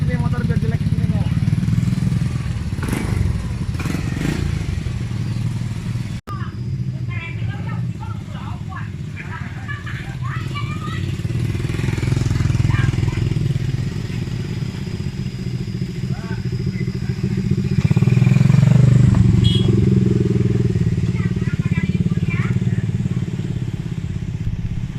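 An old, worn motorcycle engine idles and putters steadily on a rural cassava farm, rising somewhat louder near the end, while people talk nearby over it.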